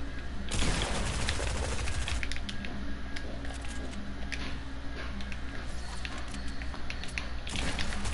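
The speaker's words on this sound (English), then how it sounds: "I hit him with my hunter rifle" Hunter rifle fire in a video game comes as a run of sharp, crackling shots layered into a dense, rattling burst of gunfire at moderate loudness.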